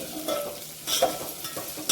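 Cluster beans sizzle and fry in hot oil while a utensil stirs and scrapes the pan a few times, with no talking.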